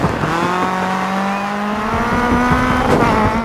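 A rally car in DiRT 4 with a rear-right puncture drones steadily at high revs with a rough, uneven rumble, tires scrubbing beneath, loud and close throughout.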